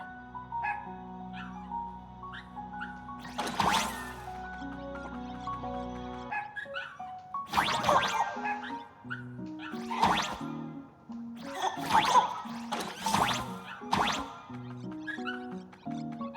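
Dogs in the Honkai: Star Rail video game give repeated short yips and whimpering barks, about five bursts spaced a few seconds apart over a soft tonal music bed.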